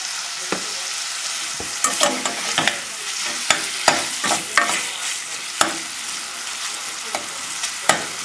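Boneless veal from a veal chop sizzles steadily in a pan over a high flame, with loud continuous frying hiss broken by repeated sharp clinks and scrapes of stirring, and no voices.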